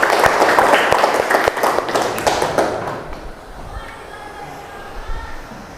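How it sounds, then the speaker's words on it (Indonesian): Classroom applause for a student, dense clapping from a group of pupils for about three seconds before fading into room noise. "Oke, tepuk tangan buat Opal."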